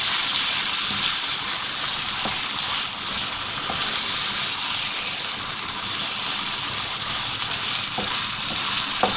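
Minced keema is stirred and fried in oil over high heat, giving a loud, constant hiss of sizzling with occasional sharp clicks of the spoon against the pan, no voices.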